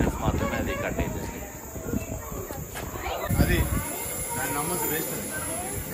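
A train ride in Brisbane toward South Bank: a rolling rumble and hiss with a thin high whine inside the carriage, while people talk over it.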